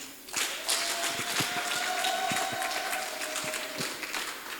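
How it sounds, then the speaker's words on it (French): An audience at a teaching-guide launch ceremony claps in scattered, uneven applause, individual hand claps standing out over a moderate crowd patter with a faint tone running underneath. "On peut applaudir"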